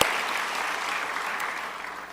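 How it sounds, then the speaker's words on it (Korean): A church congregation at a Sunday evening service claps together in steady, dense applause that begins at once, stays strong and fades slightly at the end. "박수 한번 해주시죠."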